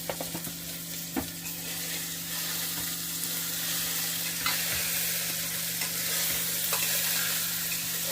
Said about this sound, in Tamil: எல்லாத்தையும் போட்டு காய்களையும் கூட போட்டு அதையும் அப்படி வதக்கி விடுங்க.